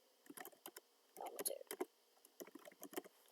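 Typing on a computer keyboard, entering a full name into a C++ program: a quiet, uneven run of close key clicks in bursts with short pauses, faint speech-like sounds mixed in.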